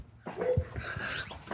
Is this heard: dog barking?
yes